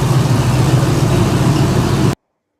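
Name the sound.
muscle car engine with mild cam running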